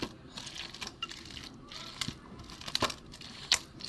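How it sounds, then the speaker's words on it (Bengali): Boiled flat beans, still hot, are pressed and mashed with the bottom of a bowl, giving soft squelching and scattered light clicks and knocks, quiet and close with no talking. "এবার আমি এটাকে ঠেসে ঠেসে নেব। একটা বাটি দিয়ে আমি ঠেসে নেব।"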